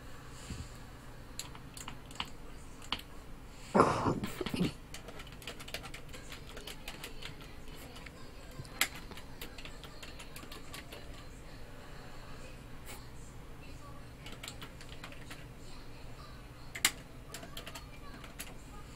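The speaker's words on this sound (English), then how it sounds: "That typing though." Soft keystrokes click on a computer keyboard during an online game of Town of Salem, scattered and irregular, with one brief louder clatter early on over a quiet room background.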